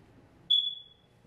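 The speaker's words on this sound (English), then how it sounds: "please excuse my fire alarm. It is chirping." A smoke alarm gives one short, high-pitched chirp indoors, faint and isolated against a quiet room hum.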